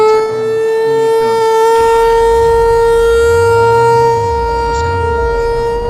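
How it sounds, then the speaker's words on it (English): Outdoor civil defense warning sirens wail steadily during a snow storm in Greenville, loud and sustained, with a low rumble underneath and a voice speaking briefly. "Sirens are on. We need to go."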